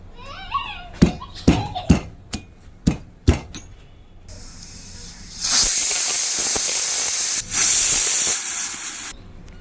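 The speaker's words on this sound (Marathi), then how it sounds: "कुकरच्या शिट्ट्या होत आहेत" A pressure cooker with dal and spinach builds steam. A few sharp knocks and clinks come first, then a loud, steady hiss of escaping steam arrives in two long bursts with a brief dip between, close up and without talk.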